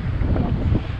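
Heavy wind buffets the microphone with a constant low rumbling roar, with a hint of fast-moving water current in the background.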